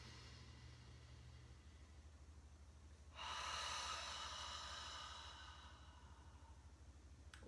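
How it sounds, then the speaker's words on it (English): A deep inhale through the nose during a supported chair yoga session, one strong breathy rush that starts suddenly, holds for a couple of seconds and then fades, set against a quiet room hum. "take a nice deep inhale through the nose"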